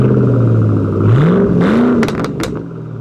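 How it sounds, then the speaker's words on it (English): A 2010 Ford Mustang GT V8 with a Roush air system revs up close and loud, its pitch climbing and dipping over a constant rumbling idle. "Underneath the hood, you'll have a powerful engine and a Roush air system as well."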